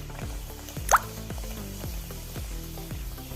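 Wheat poori frying in hot oil, a steady low sizzle broken by regular patting taps and one sharper splash, close and alone without voices.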